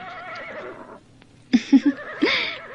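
Horse whinnying in an Indonesian radio drama, a high, wavering neigh that fades out, followed after a short pause by a few sharp snorts and a second shorter whinny, fairly close and clear.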